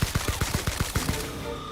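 Rapid bursts of gunfire from the sci-fi shooter video game The Outer Worlds, around nine evenly spaced shots over under two seconds, fairly close and steady, with no talking over them.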